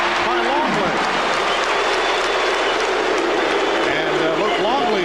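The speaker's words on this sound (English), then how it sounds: "Luke Longley hearing the chants from the crowd" A dense basketball arena crowd at a Knicks versus Bulls game roars, chants and applauds continuously and loudly, with a commentator's voice talking over it.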